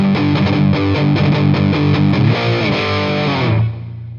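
An electric guitar with heavy distortion plays through a Boss Katana MkII amp: loud, dense chords strum in a driving rhythm, then a sustained note rings out and decays.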